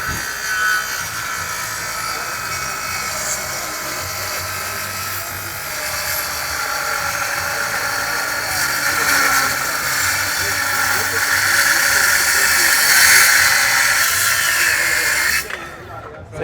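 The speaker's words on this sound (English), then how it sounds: "you can use a typical framing saw and you can cut up to 1/2 inch steel" A framing saw fitted with a Diablo blade cuts through half-inch steel, producing a loud, sustained abrasive roar that builds in intensity and then cuts off abruptly near the end.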